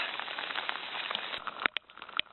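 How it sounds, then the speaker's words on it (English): Steady rain falling outdoors near a rock formation, a dense continuous patter with a few sharper drips and taps standing out near the end. "Raining pretty good."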